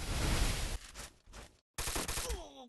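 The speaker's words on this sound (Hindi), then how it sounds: "लास्ट हेडशॉट मिस कर दिया" Rapid bursts of gunfire in the mobile game Free Fire, loud and close, one volley, a brief pause, then another burst that ends in a ringing tail.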